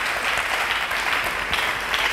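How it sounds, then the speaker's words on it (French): A church congregation applauds loudly and continuously, a dense wash of many hands clapping at close range for a couple of seconds with no speech over it. "Nous pouvons acclamer très fort."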